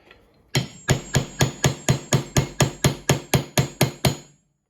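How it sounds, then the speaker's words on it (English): Fifteen evenly spaced strikes of a small one-pound hammer ring out on a nail, crisp metallic knocks in a steady rhythm close by, then stop. "nail it back in. I usually use a bigger hammer, but I got the little 1-pounder right now"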